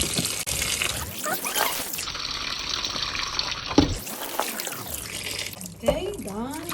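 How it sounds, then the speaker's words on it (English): Tap water runs and splashes into a sink in bursts as potatoes are sloshed and rinsed under the stream; a voice speaks briefly over it. "I'm just going to rinse it quickly."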